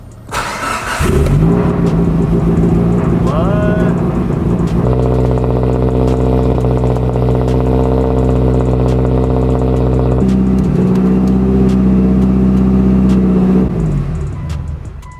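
A Mitsubishi Evo 9 fitted with a big turbo cranks and fires up, then settles into a loud, close idle with a couple of blips of revving before the engine note drops away at the end.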